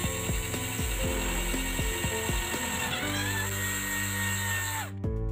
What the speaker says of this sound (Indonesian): Untuk papan PCB-nya sudah selesai kita lubangi.